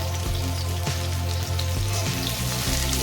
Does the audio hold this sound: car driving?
no